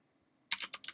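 Computer keyboard typing begins after half a second of near silence, a quick burst of about six crisp key clicks close by.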